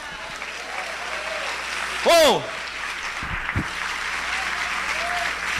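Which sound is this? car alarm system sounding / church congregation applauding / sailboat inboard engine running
church congregation applauding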